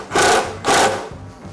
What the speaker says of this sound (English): We'll drive a couple of screws in it to hold it where we want it